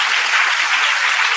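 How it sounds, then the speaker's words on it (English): Audience at a talk on food and the Wisconsin Idea claps steadily, a brief, close, dense burst of many hands with no voices. "Yeah, you can clap again, why not?"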